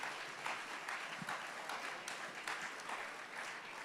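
Faint, steady applause from the crowd at a racing championship awards banquet, a continuous wash of clapping heard from a distance.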